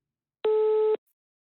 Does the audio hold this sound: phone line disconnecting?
yes